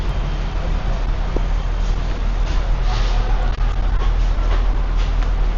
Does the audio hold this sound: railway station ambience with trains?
yes